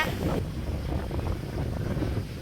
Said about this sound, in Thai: ลมคักแน่พี่น้อง